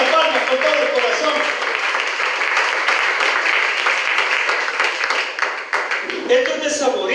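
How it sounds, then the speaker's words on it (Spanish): A church congregation applauds in a dense, sustained burst of clapping that fills the room for several seconds and then thins toward the end, with voices mixed in under it. "Dale esas palmas con todo el corazón."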